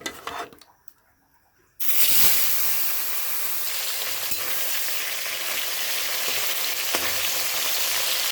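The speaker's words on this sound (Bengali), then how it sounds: "তেলটা একটু গরম হলে তারপরে আমি মাছ এক এক করে দিয়ে দেবো" Boreli fish dropped into hot mustard oil sets off a sudden loud sizzle after a quiet moment, then a dense, steady crackling fry continues close up.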